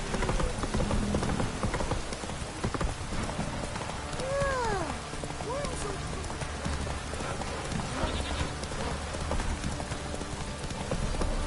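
Geralt's horse gallops through The Witcher video game world, hooves clip-clopping steadily over a soft patter of rain, with a brief whinny partway through.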